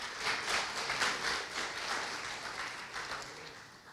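A church congregation applauds together, a broad crowd of clapping hands swelling at the start and then tapering gradually, moderately loud in a large room with no voice over it.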